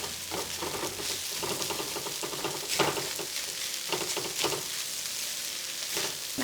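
Cold white rice fries with vegetables in a hot pan for steak fried rice, a dense continuous sizzle broken by repeated scraping and tossing strokes of a spatula, close and fairly loud, with no talking.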